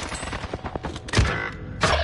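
Bursts of video game shooter gunfire crack out in rapid volleys, with a heavy thump near the middle and another loud burst at the end, close and dense.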